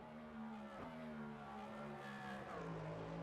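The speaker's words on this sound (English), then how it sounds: "You can hear it downshift at the roaring American muscle car towards the start-finish line" Cadillac V-Series race car in a racing video game roaring at sustained high revs, with a sharp downshift blip partway through and the engine note dropping and rising again, loud and continuous with no talking.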